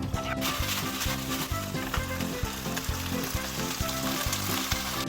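Jjajang sauce with chili peppers is stir-fried in a hot pan, giving a loud, close, steady sizzle with rhythmic scraping stirs throughout.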